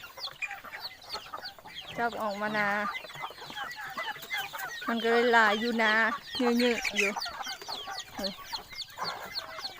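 Chickens, mostly roosters, cluck and squawk in a rice field in short loud bursts at close range, with someone talking over them between calls.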